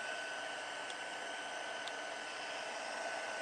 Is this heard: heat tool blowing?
yes